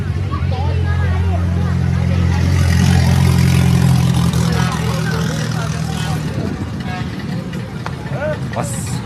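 A Suzuki DR motorcycle engine runs loudly at a vintage vehicle meet, holding a rough idle and rising briefly in pitch amid crowd chatter and nearby voices.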